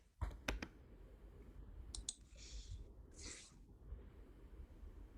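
Several quick computer mouse clicks at the start, sharp and close, followed by faint rustling and soft breathy noise in a quiet room.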